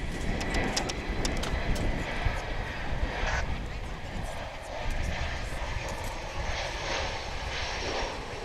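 A passenger jet, an American Airlines flight, arrives at DFW International Airport. Its engines give a steady broadband roar that holds level throughout, with a voice talking over it.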